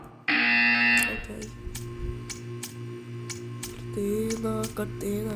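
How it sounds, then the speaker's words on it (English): A sustained electronic buzzer in the game Portal 2 blares at the start for about a second, then gives way to quieter game-like tones and short beeps. "When you hear the buzzer, stare at the art."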